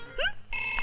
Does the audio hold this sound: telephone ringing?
yes